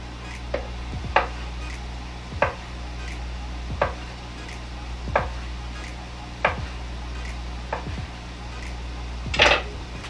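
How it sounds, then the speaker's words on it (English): A knife cuts Caribbean sausage on a cutting board for jambalaya, with sharp, evenly spaced taps about once every second or so over a low steady hum. "All right, let's cut up our sausage."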